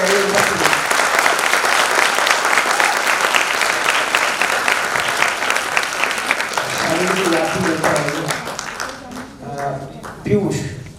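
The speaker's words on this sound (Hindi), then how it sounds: "मैं चाहूँगा एक बार जोरदार ताली बजाइए।" A theatre audience at Shaheed Bhavan in Bhopal bursts into loud, sustained applause after a Hindi stage play; the clapping thins out toward the end as voices emerge beneath it.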